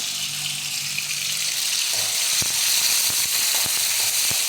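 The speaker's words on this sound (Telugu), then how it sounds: "వేగుతున్నాయి." Chopped tomatoes sizzle and fry in a pan for upma, a steady broad hiss with several sharp crackles and pops near the end, close and fairly loud with no voices.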